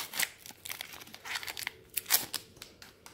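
Close, quiet crinkling and tearing of a Pokémon card booster pack wrapper, in short irregular bursts of plastic crackle.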